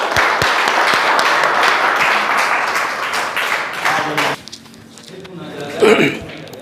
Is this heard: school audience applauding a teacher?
yes